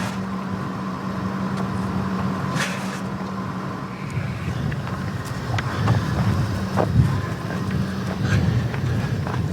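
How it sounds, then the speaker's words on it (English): Wind gusting outdoors against the microphone while people handle horses with a lead rope, a steady rushing roar with a low rumble and some swelling gusts, no talk over it. "I'm sheltering my face from the wind."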